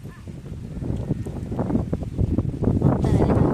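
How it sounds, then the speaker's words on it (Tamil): Wind gusts through an outdoor village setting as a steady, rushing buffeting that builds in strength, with microphone rumble and faint background sounds. "காற்று அடிக்குது"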